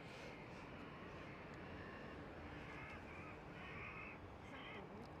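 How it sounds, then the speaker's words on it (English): Crows caw repeatedly near Edinburgh Airport, harsh calls rising over a loud constant roar of wind and distant aircraft. "Sounds like a squadron of birds have reappeared."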